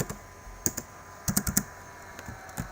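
Sparse, irregular clicks of keys on a computer keyboard while code for a Delphi class is being typed, close and fairly quiet, with short bursts of several quick strokes separated by pauses.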